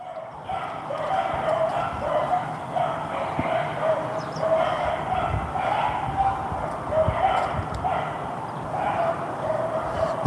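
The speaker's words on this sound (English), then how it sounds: "It's the sound of dogs driven mad." Beagles at a breeding facility with long rows of sheds keep up a dense, unbroken chorus of barking, yipping and howling. The noise is steady and comes from a distance, spread out with no pause.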